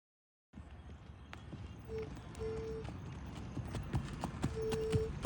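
A young male horse walks, its hooves clip-clopping in a steady, close rhythm that grows slightly louder, with faint tonal sounds alongside.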